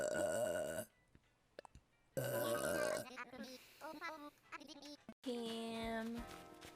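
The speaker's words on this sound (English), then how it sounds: "You know I burp when I'm hungry." A woman's burps, several loud voiced belches with long drawn-out tones, separated by short silences and breathy vocal sounds.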